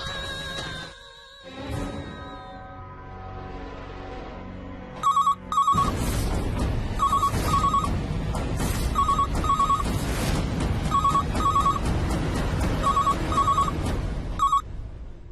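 A telephone rings in a home during a tense domestic scene, its repeated electronic trill bursts arriving in a steady rhythm over a loud, dense musical backdrop.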